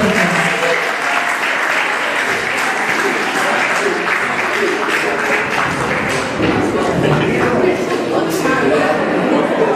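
Audience at a school award ceremony for a sport and integration contest applauding, dense steady clapping filling the room throughout with scattered louder claps, no talk over it.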